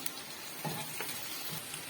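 Steady soft sizzling of onions and tomato frying in a pan for drumstick prawn kuzhambu, with a few faint stirring scrapes, quiet and close, no talking.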